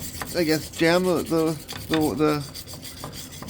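A wire brush spun by a drill scrubs gunk off the rear brake of a 1953 Pontiac Strato Chief, a steady abrasive rasping running beneath someone talking close by.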